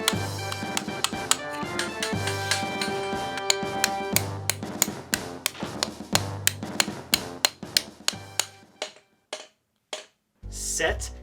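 Hammering in a SpongeBob cartoon, a run of sharp, regular metallic taps and knocks over a bouncy background music track, thinning toward the end into separate strikes with short gaps.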